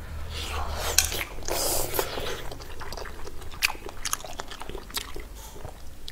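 Close, crisp biting and chewing of a Chinese home-cooked meal with rice: braised pork belly, pork intestines, duck blood stir-fried with chili, and Laba garlic, with repeated crunchy bites and wet mastication at a steady pace and no talking.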